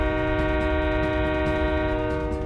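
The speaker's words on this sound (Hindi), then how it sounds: "अरे सामने से ट्रेन आ रहा है ये।" A train approaches on railway tracks, its loud sustained horn blaring steadily over the rumble of the wheels, close and continuous throughout with no talk.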